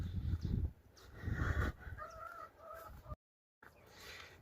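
Chickens on a South African homestead cluck and crow around feeding time, their calls repeating over a low rumble of background noise before a brief gap of silence.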